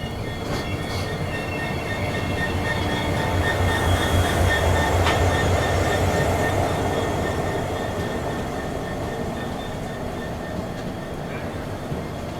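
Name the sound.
train running on the Guwahati–Sairang route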